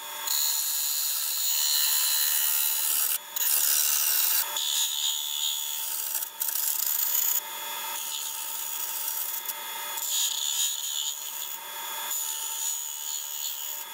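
A woodturning tool cuts fine, thin shavings from a wooden butter dish spinning on a lathe, giving a continuous high-pitched hiss and whine whose tone shifts as the tool moves and briefly lifts off.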